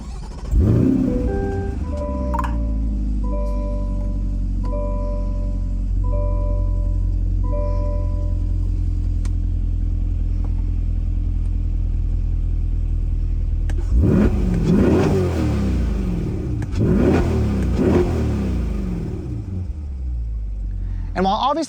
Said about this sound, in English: So let's go ahead and fire it up. You can hear how it sounds.